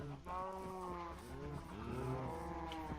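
Minecraft cows mooing, several drawn-out, wavering lowing calls overlapping one another over a couple of seconds, moderately close and fairly quiet.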